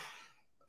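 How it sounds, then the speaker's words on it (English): A single brief cough, faint and breathy, trailing off quickly. "That made me cough."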